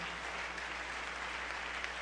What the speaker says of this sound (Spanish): Dele ese aplauso al Señor si es para Él